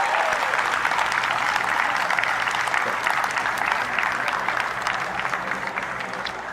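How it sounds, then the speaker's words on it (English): A crowd at a Veterans Day ceremony in Pasadena, California gives sustained applause for veterans and military service branches, a steady dense clapping throughout. "Let's have one more round of applause for all of our veterans and military service branches"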